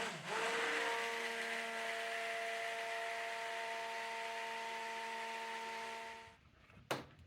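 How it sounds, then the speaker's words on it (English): Stick blender whirring through coconut milk cold process soap batter scented with lemongrass oil, a steady motorized drone with a constant hum that stops abruptly, followed by a single brief clack. "we are going to use our stick blender to bring to a light to medium trace today"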